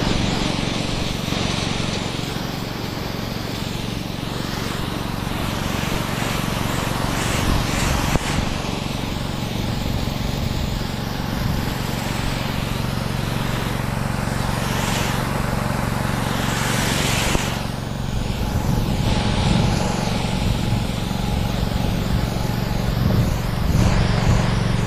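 A motorized crop sprayer engine runs steadily in a field where string beans grow, a loud continuous droning hum lasting throughout with minor fluctuations and occasional faint knocks.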